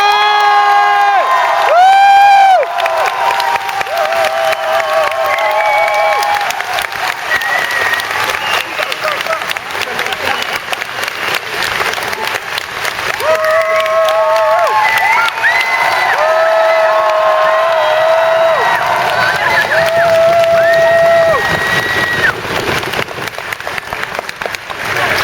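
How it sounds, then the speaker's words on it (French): Big convention crowd at a gaming show greeting a guest with loud, sustained clapping, whoops and high-pitched shouts and cheers, swelling and continuing for a long stretch. "Et notre second invité, que je vous demande d'applaudir avec autant de force, Monsieur Christopher Judge."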